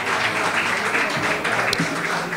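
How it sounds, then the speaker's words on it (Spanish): Audience applause at a magazine presentation event in a restaurant-bar in Estepona, a steady broadband clatter of clapping hands held at an even level throughout, with a little background murmur. "Aplauso para ella."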